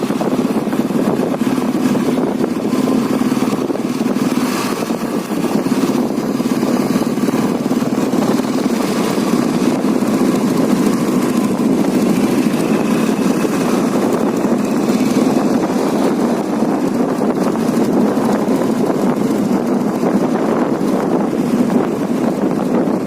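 An old model Royal Enfield Bullet motorcycle engine runs steadily and loudly at close range for a long stretch, its even low thrum mixed with rushing wind noise.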